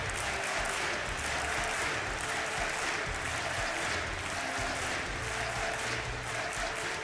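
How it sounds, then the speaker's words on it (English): An esports crowd at a DreamHack Masters Malmö 2016 Counter-Strike match cheers and applauds in a dense, sustained roar that holds loud and steady throughout, with no clear speech on top. "this crowd during the pause is doing everything it can to get NiP back into it"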